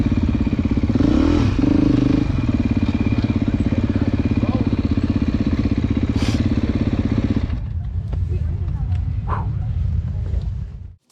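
A Beta off-road motorcycle engine revs hard and steadily up close, a buzzing harmonic drone that drops off sharply around the halfway point, leaving quieter idle and clatter before it cuts out.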